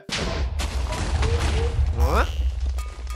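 A trap goes off in Minecraft with booming explosion blasts and rumbling debris, while excited voices talk and react over the noise.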